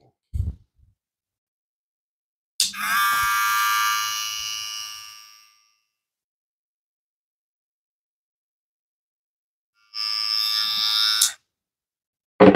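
Kemei KM 264 electric shaver buzzing in two bursts, a loud steady high-pitched hum for about three seconds, then silence, then a shorter second run of just over a second.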